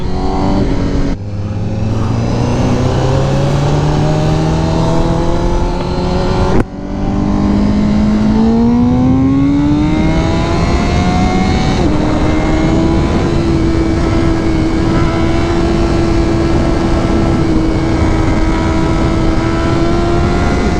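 A Honda CBR1000RRR SP superbike engine pulls hard while riding, its loud, close note climbing in pitch through several gear changes before settling into a steady high-revving drone with wind rush.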